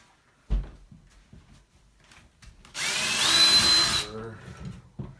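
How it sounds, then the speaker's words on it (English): A power drill bores a hole in a wall for mounting a wire closet rod shelf, one loud whirring run of about a second after a few light knocks and handling sounds. "And once again you start drilling, right?"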